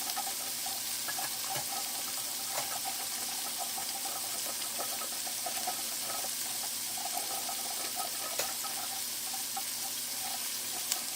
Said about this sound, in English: I'm going to go quick rinse them and then add them to this tasty mixture